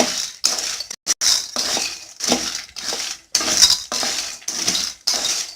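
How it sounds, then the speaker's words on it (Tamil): Groundnuts dry-roasted in a pan without oil, stirred in quick repeated strokes that make bursts of rattling, clinking scrapes close by, each separated by a brief pause. "இப்போது வேர்க்கடலையை வறுத்து எடுத்துக்கலாம்."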